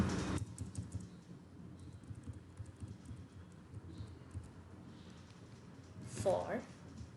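Steady typing on a computer keyboard while code is written, soft clicking keystrokes close by, with a louder burst of keys near the end.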